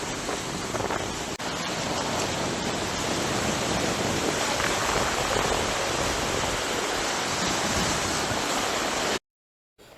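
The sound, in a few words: floodwater rushing across a washed-out road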